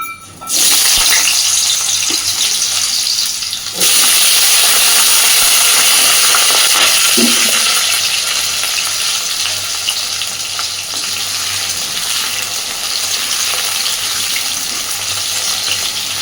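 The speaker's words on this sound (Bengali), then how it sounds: "এইবারে ওই তেলের মধ্যেই আমি ছোট ছোট করে কেটে রাখা আলুগুলো সব ভেজে নেব।" Diced potatoes drop into hot mustard oil in a wok and set off a loud, sudden sizzle. It holds as a dense, continuous crackle close up, easing slightly partway through, with no one speaking.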